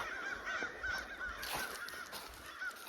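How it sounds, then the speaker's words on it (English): Big birds, likely geese, honk repeatedly outdoors by a Walmart parking lot, a string of faint, distant calls over a steady background hum. "Those are big old birds."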